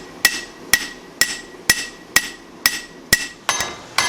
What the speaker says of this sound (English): Here I'm working on thinning out the spine of the knife and forging in a distal taper from the handle to the tip.